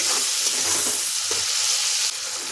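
Tomato with turmeric and salt frying in a pan, a steady close hissing sizzle with faint stirring bumps, no talking.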